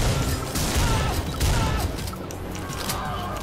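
Enemies fire on the player in the PC shooter Butcher: rapid bursts of gunfire crackle over a busy background, with clustered shots repeating unevenly at moderate loudness.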